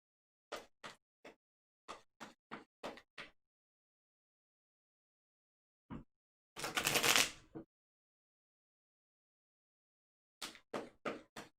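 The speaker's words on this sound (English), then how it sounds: "So let's shuffle, shuffle, shuffle." Arkham Horror game cards are handled at a table: short clusters of sharp taps and snaps, then one longer rushing shuffle, close and crisp between stretches of silence.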